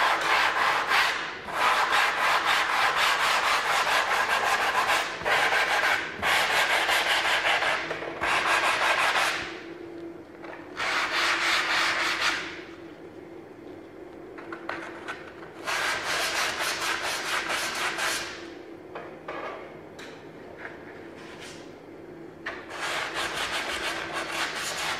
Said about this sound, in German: Und heute würde ich die jetzt einmal kurz schleifen.